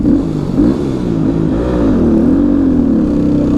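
A car engine revs hard with a wavering, strained drone, then labours as the driver fails to find the right gear and the car barely moves forward; steady and fairly loud throughout, with no talk.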